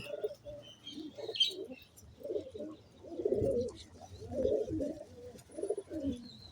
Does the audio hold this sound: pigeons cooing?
yes